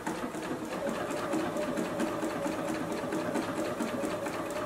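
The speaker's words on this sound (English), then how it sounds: "And sew that stitch." A JUKI sewing machine stitching a fabric beverage coaster along a marked line, running steadily and continuously with a fast, even mechanical whir at close range.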